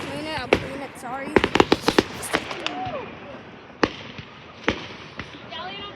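Firework combo effects in a video game, a burst of sharp crackling pops clustered around the middle with scattered bangs later and whistling tones, heard over a person talking and laughing.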